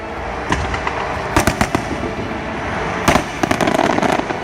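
Fireworks bang in a steady background crackle, with two dense clusters of sharp pops and bursts; loud and fairly close, no talking.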